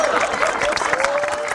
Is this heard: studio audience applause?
yes